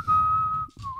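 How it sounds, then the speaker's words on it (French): A single person whistles a steady sustained tone, the opening of The Internationale, with a brief break and then the melody resuming, close and clear. "Je me mets à siffler l'international."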